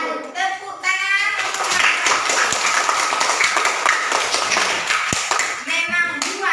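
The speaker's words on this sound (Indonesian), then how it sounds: "Tepuk tangan." Classroom audience of schoolchildren clapping together in a steady, dense burst of applause lasting several seconds, fairly close and loud, with some voices mixed in.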